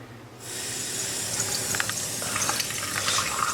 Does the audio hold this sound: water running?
yes